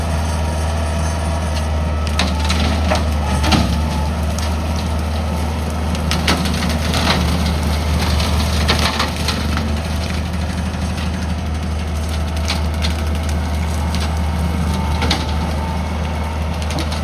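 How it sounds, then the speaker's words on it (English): Tractor clearing thick brush on rural hunting land, a steady low engine drone with repeated sharp cracks and crunches of splintering wood and snapping branches close by. "Right now we're just trying to get everything done with the tractor that we can while we've got it."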